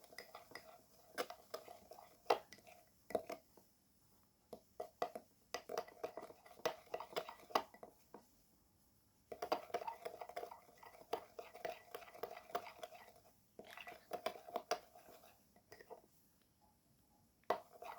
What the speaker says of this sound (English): mix the ingredients all together like so